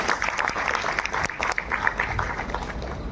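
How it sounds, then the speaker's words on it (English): Audience applause at a public conversation event, steady clapping from many hands, moderately loud with some crowd murmur. "I think that also deserves a huge round of applause"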